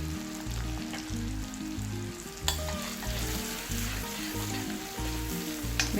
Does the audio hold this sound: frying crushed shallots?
yes